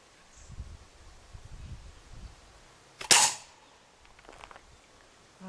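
A single sharp crack from a 4.5mm air gun firing once outdoors, close and brief, over faint rustling and light background noise.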